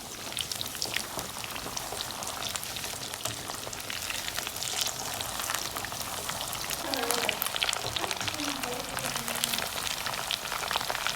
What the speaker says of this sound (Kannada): ನಾನು ಮೀಡಿಯಮ್ ಫ್ಲೇಮಲ್ಲೇ ನಿಧಾನಕ್ಕೆ ಬೇಯಿಸ್ಕೊಳ್ತಾ ಇದ್ದೀನಿ